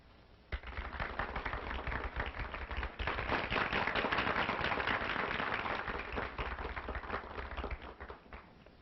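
A studio audience applauds on cue, soft at first, then swelling into loud, dense clapping that holds steady before gradually tapering off toward the end.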